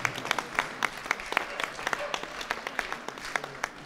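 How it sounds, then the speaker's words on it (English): Applause at a championship dog show for the pastoral group shortlist, with many individual claps audible in a lively rhythm from a moderately sized crowd, fairly close and without talk. "You are allowed to clap."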